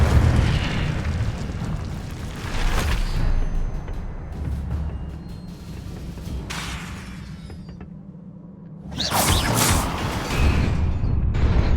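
Incendio fire spell in a Hogwarts video game: a whooshing, roaring eruption of flame with rumbling bursts, easing to a quieter stretch before a sharp, loud blast near the end.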